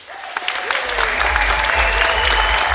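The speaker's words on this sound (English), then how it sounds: "please give them a round of applause" Audience applause swells in and holds as dense, steady clapping from a crowd, with a voice trailing off at the start.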